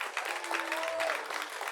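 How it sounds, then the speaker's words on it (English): Comedy club crowd at Hyena's in Fort Worth giving a steady round of applause, a dense wash of clapping at moderate level throughout, with a brief voice or whistle in the middle. "Let me get another round of applause"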